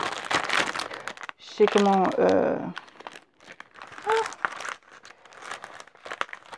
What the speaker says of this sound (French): Ça, c'est du papier métallisé, un peu dans le genre de ceux qu'il y a